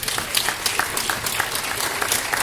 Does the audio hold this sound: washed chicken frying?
no